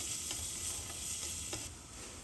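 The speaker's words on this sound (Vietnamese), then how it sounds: "Sau đó cho tỏi bằm vào xào thiệt là thơm." Minced garlic stir-fries in annatto oil in a pot for a shrimp broth, giving a steady, close sizzle with a few brief stirring scrapes throughout.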